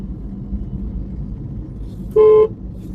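A single short car horn blast, about a third of a second long, sounds over a low, steady rumble of road traffic in Ahmedabad.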